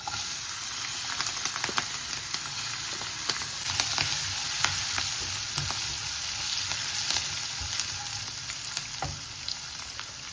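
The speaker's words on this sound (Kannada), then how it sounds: "ಹಸಿರು ಮೆಣಸಿನ್ಕಾಯಿ, ಒಣಮೆಣಸಿನ್ಕಾಯಿ ಹಾಕೊಂಡ್ಬಿಡೋಣ." Green chillies and dry red chillies frying in hot oil with asafoetida, giving a steady close sizzle and crackle with occasional stirring clinks throughout, no voices.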